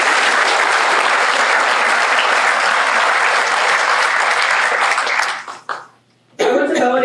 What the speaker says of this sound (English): So let's give a round of applause to the Altoona Mirror.